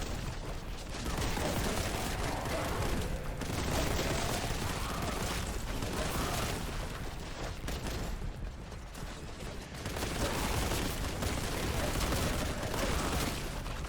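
Dense, continuous gunfire and explosive blasts from the video game Warhammer 40,000 Boltgun, loud and unbroken throughout with no clear gaps.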